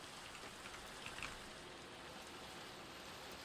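Steady rain falls in the ATM10 Minecraft modpack, a soft, even hiss that stays constant throughout with no voices over it.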